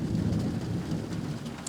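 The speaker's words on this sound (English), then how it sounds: "And this thunderstorm is like right above us right now." Heavy tropical rain pours steadily on a homestead, with a continuous low rumble of thunder from a storm directly overhead, loud and enveloping, with no talking.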